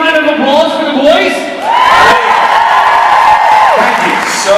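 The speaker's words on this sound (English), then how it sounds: "Can we have a big round of applause for the boys?" Fan convention panel audience at NJ Con 2018 cheering and applauding loudly for the guests on stage, a dense, sustained crowd roar with whoops and shouts close by.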